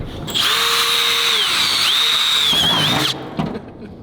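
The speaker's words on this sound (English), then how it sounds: "Never get bored of drilling a Ferrari." A power drill whines at high speed for about three seconds, its pitch wavering as it bites into the hood of a twin-turbo Ferrari F12, then spins down and stops.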